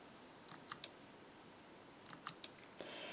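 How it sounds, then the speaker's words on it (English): Keys on a refreshable braille display are pressed for the space command, giving a few faint, sharp clicks scattered over a low background hiss, close and very quiet with no voices. "You can hear the clicking sound when I hit 6 space again"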